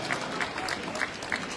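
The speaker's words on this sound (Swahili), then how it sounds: "Wapige makofi mazuri tena." An audience claps at a stadium celebration for Mashujaa Day, a brief spell of scattered applause and crowd noise in a large open space.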